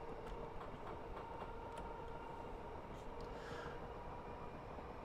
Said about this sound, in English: We're going to be coming upon the first AI train of our journey, 2H46, as it comes into Coatdyke to make a station stop.